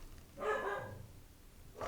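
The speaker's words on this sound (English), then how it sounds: "I'm sorry for my dogs, they're going off." Dogs barking indoors at a distance, a single muffled bark followed by the faint start of another, low in level beneath room noise.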